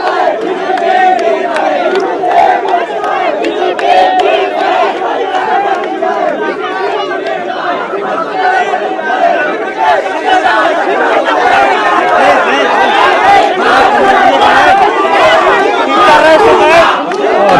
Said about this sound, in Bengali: এই মুহূর্তে বিজিবির সামনে এসে স্লোগান দিচ্ছে শিক্ষার্থীরা